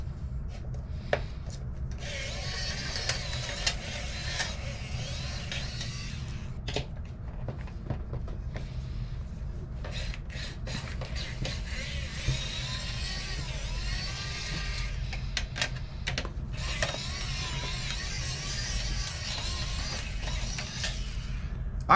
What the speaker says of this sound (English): Now for the heatsink screws.